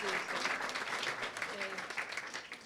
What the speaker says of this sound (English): a round of applause for Arlene.